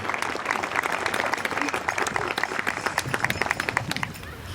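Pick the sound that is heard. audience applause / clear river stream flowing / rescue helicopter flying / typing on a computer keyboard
audience applause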